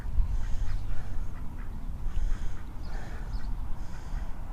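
Ducks quack intermittently on a new shallow pond outdoors, several calls spread through the stretch, moderately close over a steady low rumble of wind or background noise.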